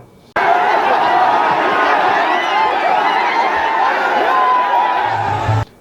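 A huge crowd of thousands of young people in Bokaro, a loud, dense and steady roar of many voices that starts abruptly and holds at an even level before cutting off.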